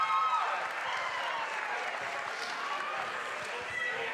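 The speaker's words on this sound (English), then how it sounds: "let's give him a round of applause" Audience applause at a beat-making battle, a dense, steady patter of clapping that holds across the whole moment with crowd noise mixed in.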